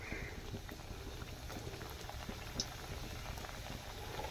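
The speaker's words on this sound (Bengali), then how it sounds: "এখানে আমি সবগুলো একসঙ্গে ভেজে নিচ্ছি" Crisp flour cookies fry together in hot white oil in a wok, giving a faint, even bubbling sizzle with light patter throughout.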